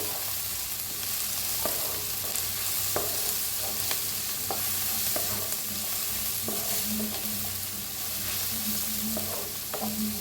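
Half a spoon of turmeric roasting in hot oil in a pan for raw mango rice, a loud continuous sizzle broken by repeated scraping stir strokes, close by with no talk.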